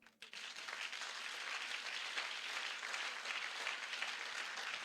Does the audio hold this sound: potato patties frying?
no